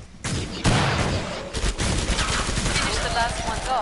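Rapid video game gunfire, a loud close fusillade of overlapping shots and automatic bursts that runs nearly without pause, with a voice speaking over it.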